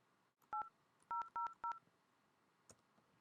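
Touch-tone keypad dialing into an Asterisk phone system dial plan: four crisp, evenly pitched DTMF beeps with short gaps between them, close and clean against faint line hiss.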